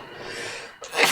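A single quick sneeze, short and fairly close, with a sharp burst at the end.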